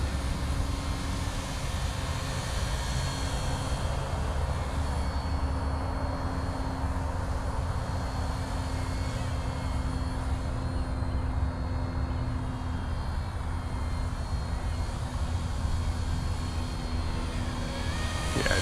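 Razordon Black Hawk UH-60L RC helicopter flying outdoors in wind, a steady whirring rotor and motor drone held constant throughout, with wind rumble underneath.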